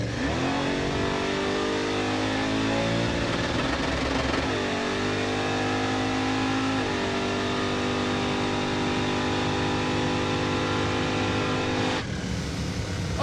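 The Crusher Impala drag car holds a loud, steady engine drone at the staging line, then revs rise and shift through stepped pitches as it launches, the roar continuing unbroken until a sudden drop near the end.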